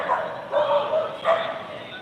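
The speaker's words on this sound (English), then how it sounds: "You hear the dogs arguing?" Dogs bark and yip in short bursts, three quick rounds of barking over about two seconds, moderately near with some indistinct background noise.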